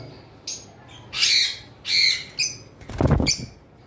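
Several loud, harsh bird squawks in separate bursts, close by, followed by a rustle or flutter.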